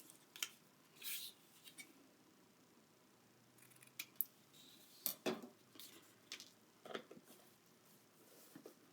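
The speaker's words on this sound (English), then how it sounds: "I'm going to just use scissors to trim off the end." Scattered crisp snips and rustles of scissors trimming scrapbook paper, irregular and close, with light handling clicks between cuts and no speech.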